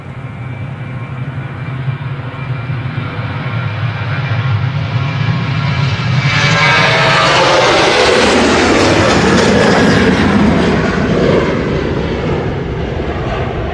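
Ryanair jet taking off at Manchester Airport, a loud sustained engine roar that builds and swells with a rising whine as the aircraft passes close, then holds at a steady rumble, with no talking.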